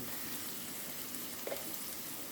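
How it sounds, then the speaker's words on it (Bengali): Shrimp and drumstick stalks fry in a pan with a steady, even hiss of sizzling oil, fairly faint and unbroken, with no talking. "হালকা একটু ভেজে নেব।"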